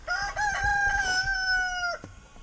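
A rooster crows once, close and loud, a long drawn-out call held for nearly two seconds before breaking off, with no talking.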